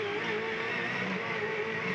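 Touring race cars from the 2001 Shell Championship Series, a Ford among them, thunder down State Circle at the Canberra 400 street race. A steady, loud engine roar holds with no break and no talk.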